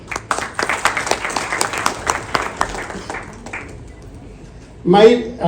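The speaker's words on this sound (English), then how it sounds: "Clap for past presidents." Audience at an investors club anniversary ceremony applauds past presidents with brisk, scattered clapping that thins out and fades by the middle, followed by near silence and then a voice speaking close by.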